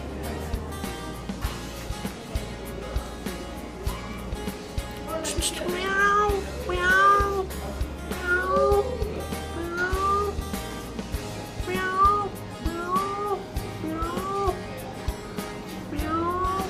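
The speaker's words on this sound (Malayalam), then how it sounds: "പല പല മോഡലുള്ള പൂച്ചകളാണ്." Several cats of different kinds meow over and over, with rising and falling calls overlapping through most of the stretch over a faint background murmur.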